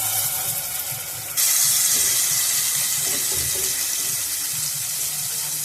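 Mustard paste dropped into hot oil flavored with black cumin seeds in a pan, a loud steady hiss that jumps up suddenly and keeps sizzling close by.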